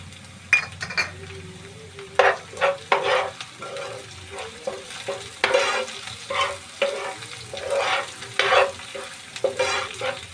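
Ginger garlic paste and green chillies sizzle and fry for Surati egg khimo while a spoon stirs the pan in repeated scraping strokes, close and fairly loud.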